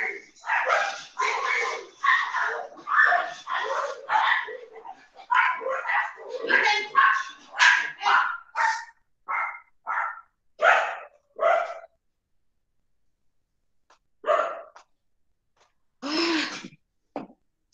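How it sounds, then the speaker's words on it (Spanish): Several dogs bark at a fence in a long, busy run of overlapping yaps and woofs, then the barking thins to a few isolated barks separated by silence. "Una señora pasa por acá con sus perros y los acerca a la reja para que saluden a mis perros."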